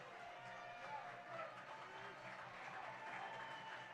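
Crowd at a Michigan Wolverines versus Ohio State Buckeyes college baseball game cheers and applauds steadily before a full-count pitch, a continuous wash of clapping and voices from the stands.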